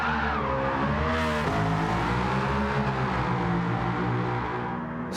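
BMW Z8 in Gran Turismo 7 fitted with a wide body kit, engine droning steadily at high revs with exhaust crackle and tire squeal, continuous and loud with a brief dip in pitch partway through.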